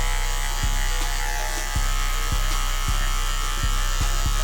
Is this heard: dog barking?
no